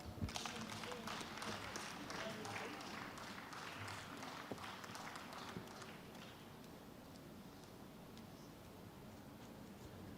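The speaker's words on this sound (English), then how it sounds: "Please, let's clap for her." Audience applause in a conference hall at a surveyors' and valuers' annual conference, with quick scattered clapping that starts strong and gradually thins and softens, heard from some distance.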